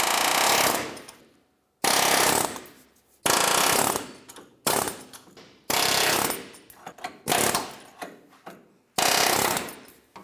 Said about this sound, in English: Now I'm just going to use an air hammer and chisel them off.